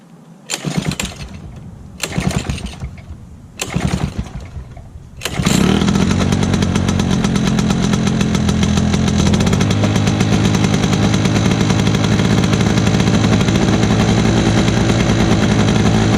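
A lawn mower engine that tends to take in more oil than it needs is pulled over three times in sputtering bursts, then catches on the fourth pull and settles into a loud, steady, close-up running drone.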